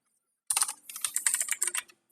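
Rapid bursts of keystrokes on a computer keyboard as a short promo code is typed, close and fairly loud, starting after a brief silence and stopping cleanly.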